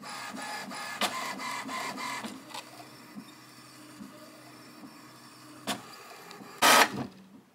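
A new printer prints an alignment page, its print head shuttling in a rapid rhythmic chatter, then quieter mechanical hums, a couple of clicks and a brief loud whir near the end.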